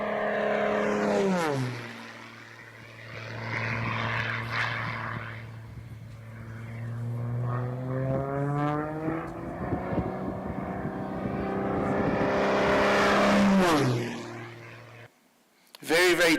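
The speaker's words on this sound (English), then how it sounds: "The pilot will then fly past these at just over 400 kilometers an hour, 15 meters above the ground." Aircraft on a tight air-race course sweeps past ground markers at just over 400 km/h, 15 meters up, its engine note rising and then falling in pitch as it roars by close and loud.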